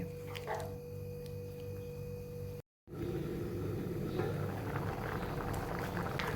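Dry prawn, jackfruit seed and raw mango curry simmering in a pot, a steady low bubbling hiss that runs on alone, broken by a brief silent gap partway through.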